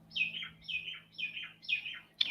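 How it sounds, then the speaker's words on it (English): Noisy miner birds calling outdoors at an event, a series of four loud, close, descending chirping calls repeating at a steady pace, with a sharper note at the end and no talk. "Oh, the birds, yes, those are the miners. The miners are really loud."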